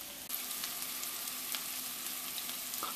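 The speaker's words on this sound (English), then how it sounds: "It's already heating through that herbs, that rosemary. You can hear that sizzle." Potatoes with rosemary and garlic sizzling steadily in a hot pan, a constant close-up crackle of frying with a small clatter at the start.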